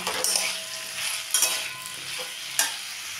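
Diced potatoes and tomato frying in a pan, a hissing sizzle with a few spatula scrapes and taps at intervals, close and moderately loud, with no talking.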